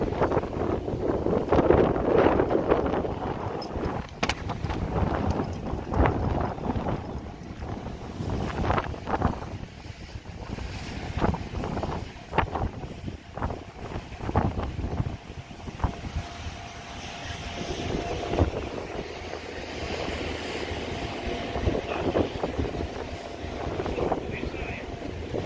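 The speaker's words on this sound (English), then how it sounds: "Apologies about the wind, the rain." Heavy wind buffeting a microphone outdoors in the rain outside a crown court, a constant rumbling roar with gusts, with people talking faintly beneath it.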